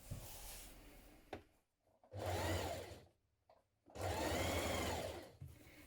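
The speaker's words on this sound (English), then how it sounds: "Stitch your tape within that allowance." A sewing machine stitches stay tape along the waist edges of a skirt for a 1970s wrap dress, two close bursts of rapid whirring stitches separated by short pauses and a faint click.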